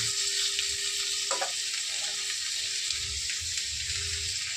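Lentils and a large tomato sautéing in a pan for vegetarian khichuri, a steady broadband sizzle running throughout with a brief stirring scrape near the start, close and uninterrupted by voices.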